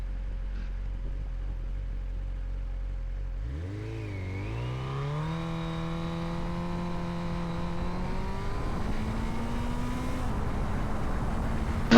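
A BMW RR motorcycle idles low, then its engine revs up hard and accelerates through first gear before shifting up. The rising engine whine is loud, close and steady, with no voices.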